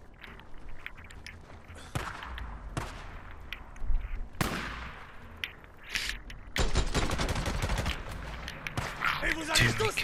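Gunfire aimed at the player in the video game Days Gone: scattered single shots early, then a dense volley of rapid fire, with a voice talking over parts of it.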